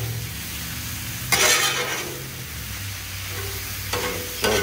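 Onions frying on a Blackstone griddle with an air fryer combo, a steady sizzle punctuated by a few louder scraping stirs of a spatula against the flat top.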